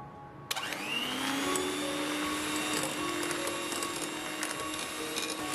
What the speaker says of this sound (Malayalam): ഇതും ഒന്ന് മിക്സ് ആവാൻ വേണ്ടിയിട്ട് മാത്രം ബീറ്റ് ചെയ്തതാണ്